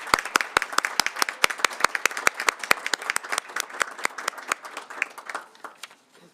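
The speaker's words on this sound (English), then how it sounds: "let's give them one more round of applause" An audience in a school board meeting claps for an elementary school chorus with sharp, distinct hand claps that come thick at first and then thin out to a few last claps and silence.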